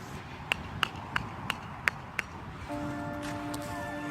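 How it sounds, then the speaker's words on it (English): A hammer strikes the top of a wooden plant sign stick set in a garden raspberry bed, giving six sharp, evenly spaced taps, fairly close and moderately loud, followed by a faint tonal hum. "so when I hit it with the hammer."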